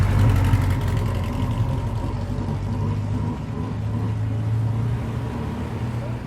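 A V6 supercar engine runs in Monaco, giving a steady low rumble that holds evenly throughout with a slight dip midway, with voices faintly mixed in.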